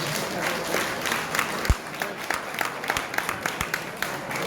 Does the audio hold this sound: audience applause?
yes